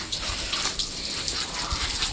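A strong water jet hoses down a cow, spraying steadily and loudly close by with a constant gushing hiss throughout and no voices.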